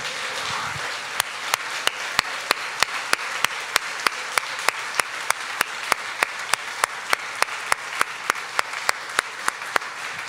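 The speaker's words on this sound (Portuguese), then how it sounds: "Você pode dar um aplauso ao Senhor" A church congregation applauds during a Portuguese-language sermon, the crowd's steady wash of clapping punctuated by sharp, evenly spaced unison claps in a regular rhythm throughout.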